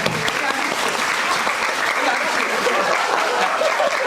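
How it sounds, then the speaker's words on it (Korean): A theater audience clapping steadily after a musical's final performance, dense and lively applause throughout with faint chuckles. "박수 한번 부탁드릴게요"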